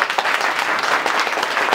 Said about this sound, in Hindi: एक बार सभी साथी नेताजी के लिए ताली बजा दीजिए।